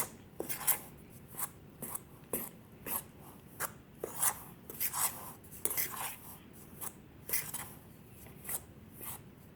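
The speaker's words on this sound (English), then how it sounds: "I use my fork to just sort of mix it all together, like so" A fork scrapes and stirs pie crust ingredients with apple cider vinegar in a bowl. About a dozen short, quiet, rhythmic scraping strokes repeat at an uneven pace, close up, with no talking.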